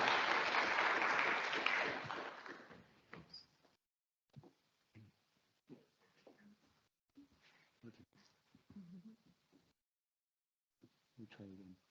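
Audience applause at a closing plenary session: a dense, loud burst of clapping for about three seconds that quickly fades, after which a single voice begins speaking in short phrases.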